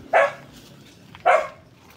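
A dog barks twice, close and sharp, with a short pause between the two barks over a quiet background.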